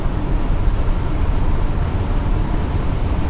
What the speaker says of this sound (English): Check it out, it's raining.